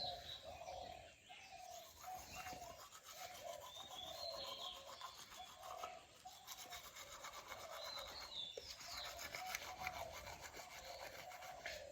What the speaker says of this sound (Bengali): ব্রাশ করবো এখন।